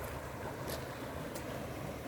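Floodwater from higher ground rushing past the front of a house, a steady broad wash of flowing water with a faint wind-like hiss and no voices.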